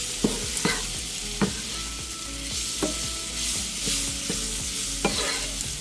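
Flour being stirred into frying sausage and its grease to make a roux for gravy: a steady sizzle under rhythmic spoon scrapes and taps against the pan, close up and without voices.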